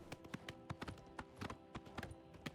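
Horse hooves clip-clopping at a steady trot in the video game Oblivion Remastered, a quick run of faint, evenly spaced clops without speech.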